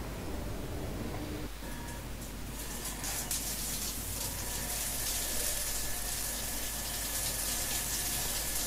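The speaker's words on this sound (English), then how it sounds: "I'm going to jump straight into the shower" Water from a shower runs steadily, a broad hiss that holds even and close throughout with no pauses or talk.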